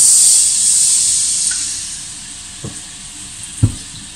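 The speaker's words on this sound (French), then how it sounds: "je vais déglacer un peu ici, là" Peppers for a homemade ratatouille hiss and sizzle steadily in a hot pan as it is deglazed, a strong steamy hiss that slowly fades, broken by two short knocks near the end.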